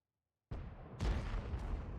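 A gunshot in a video game: after half a second of silence a sharp blast erupts, followed by a second heavier boom with rumbling tail and a fainter crack near the end, no talk.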